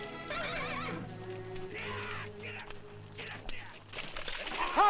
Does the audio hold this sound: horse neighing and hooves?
yes